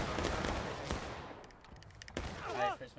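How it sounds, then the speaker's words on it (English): Rolling musket volleys crackle across a Civil War battlefield in the video game War of Rights, dense overlapping shots near and far with sharper single reports, and a voice briefly speaks near the end. "We're getting shot from the west."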